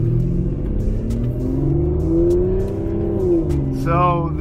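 An Aston Martin Vanquish engine in sport mode, heard from up close, holds a loud, deep, steady drone that rises and falls in pitch, climbing briefly near the end.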